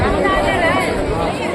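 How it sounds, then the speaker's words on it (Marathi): Dense crowd chatter fills the Gangapur temple grounds, many overlapping voices close by in a steady, busy murmur with no single sound standing out. "गर्दी आहे."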